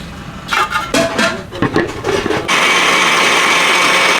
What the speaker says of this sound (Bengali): অল্প একটু জল দিয়ে মিক্সচারে ঘোরাবে